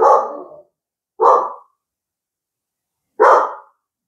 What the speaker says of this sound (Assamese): কুকুৰটো অলপ ভুকি ল'ব দিছোঁ, নহ'লে শুনিবই নাপাব।